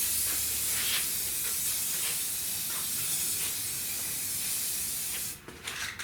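A spray gun lays a light dust coat of paint on a 1966 Buick Wildcat GS, a steady, close hiss that runs for several seconds and then cuts off near the end.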